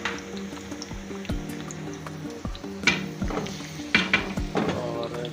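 Chopped onion sizzles in hot oil for a dal tadka, a steady crackle with a stirring clatter now and then, close up and fairly quiet, with no speech.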